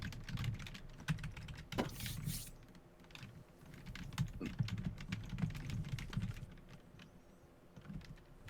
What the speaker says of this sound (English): Now what you typing, Jared?